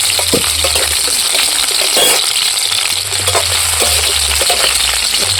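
Oil sizzles steadily as onions, capsicum and green chillies fry in a pan, with occasional clinks and stirring scrapes and a low hum underneath.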